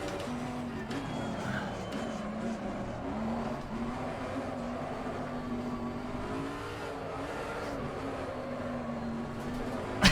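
A GT race car in Assetto Corsa Competizione drifting through a corner, its engine holding a steady high-revving drone with tyre noise and shifting pitch, fairly close and continuous.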